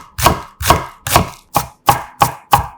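A knife chops half a sweet onion on a cutting board in a home kitchen, with eight sharp, evenly spaced strikes in a steady rhythm, close and loud with no talking.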